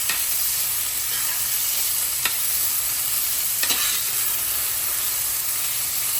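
Onions cooking for chicken enchiladas, a constant close sizzle and hiss from the pan with a couple of brief stirring clicks, steady and moderately loud with no talk.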